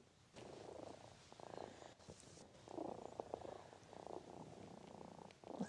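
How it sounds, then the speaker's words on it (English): A cat purrs close to a microphone in a steady, rumbling cycle of soft pulses, continuous throughout with no talking. "I can hear you purring on the mic."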